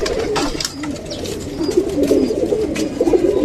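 Pigeons coo in a loft where birds are kept for flying, with soft low cooing running steadily throughout and brief rustling movement over it, close and moderately loud.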